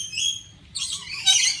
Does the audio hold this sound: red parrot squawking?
yes